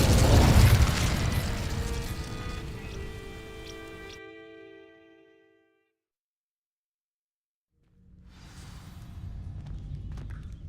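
Incendio fire spell igniting dry vines in Hogwarts Legacy: a loud whooshing burst with crackling and ringing magical tones that fades into several seconds of silence, then a rumbling ambient rustle returns.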